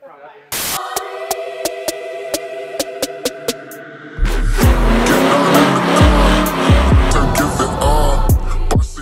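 A car engine revs loudly at a car detailing event, sharp throttle blips and a roaring rev burst over a busy outdoor crowd, following a run of rhythmic clicking ticks.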